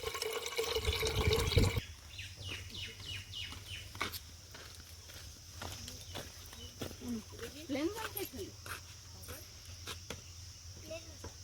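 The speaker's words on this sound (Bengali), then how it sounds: "লেবুর রসটা জলের মধ্যে দিতে গিয়ে কয়েকটা দানা পড়েছে, যে কারণে জলটা আরেকটা পাত্রে ছেঁকে নিচ্ছি" Lemon and sugar water is strained and poured into another container: a loud, splashing pour for the first two seconds. Afterwards come quieter drips, faint background voices and chirping insects.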